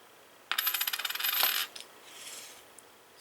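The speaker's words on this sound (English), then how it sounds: "And I got some nice gold coins here to" Gold coins drop in a quick rattling cascade of bright metallic clinks, close and crisp, then settle with a few scattered ticks against a quiet background.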